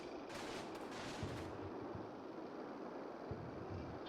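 Gunfire in the Combat Mission: Battle for Normandy war game, a steady distant roar of rattling shots with scattered louder cracks, continuous and fairly faint throughout with no talk.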